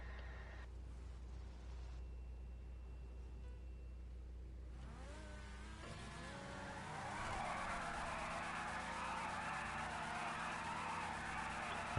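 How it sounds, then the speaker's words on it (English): Race cars in Grand Theft Auto idle on the grid, then rev hard with rising pitch sweeps before pulling away together. A broad roar of engines and tire noise swells up and holds steady, loud and close. "Engines are revving. Away they go."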